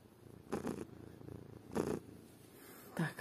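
A house cat purrs close by in soft rhythmic bursts, each rumble swelling and fading in a steady breathing pattern, heard alone without talk.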